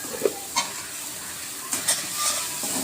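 Hot oil sizzles in a pan while prawns and vegetables are stir-fried, with a low continuous hiss broken by several sharp scrapes and clatters of a spatula, moderately close and without speech.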